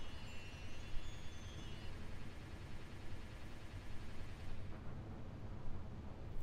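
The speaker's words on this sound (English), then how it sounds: "time will stop when the explosion happens" Explosion in the Sonic Adventure video game, a dense, loud roaring blast that rumbles on continuously for several seconds without any talking.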